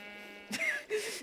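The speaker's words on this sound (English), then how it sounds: "and then the sheep just made some noise" A short synthetic Minecraft sheep bleat with a rising then falling pitch, followed by a second brief bleat, against a steady electronic background tone.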